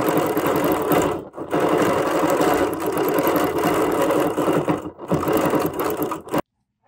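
Quilting a butterfly onto a table runner, a sewing machine runs in loud close bursts of rapid stitching with two short stops, then cuts off into silence.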